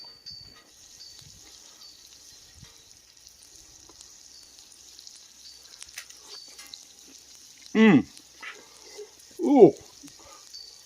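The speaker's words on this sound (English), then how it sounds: "When I get a good heat going on there, smoke coming up, I'm gonna drop that steak right on there." A tomahawk steak sizzles on a hot Camp Chef griddle as a faint, steady hiss that runs throughout, broken twice near the end by a short exclaiming voice.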